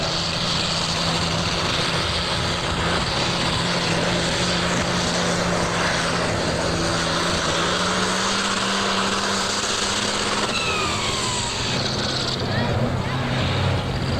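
A brand-new 7500 super stock pulling tractor roars in a continuous, loud, unbroken drone throughout a 1988 Ohio State Fair pull, with an announcer talking over the engine.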